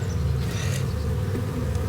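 A low, continuous buzz of honey bees hovers around a waterlogged hive in a bee yard, steady and close with faint passing wing whines.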